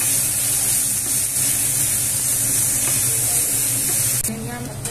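Chopped garlic and ginger sizzle in a hot pan of oil, a loud, steady, close frying hiss that runs continuously with slight stirring scrapes near the end.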